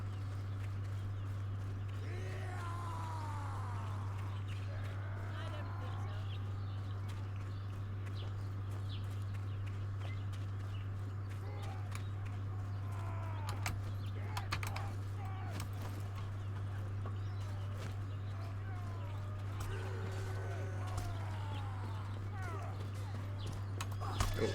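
Horse hooves clip-clop in the medieval combat game Mordhau, steady and moderately close, recurring in short bursts under a constant low hum with some game noise.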